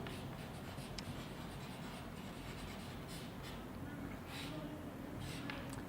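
Chalk or marker writing on a board during a Hindi-medium class 12 physics lecture, a faint scratchy scribbling sound heard in short strokes under a steady roomy hiss, with a teacher's voice occasionally present.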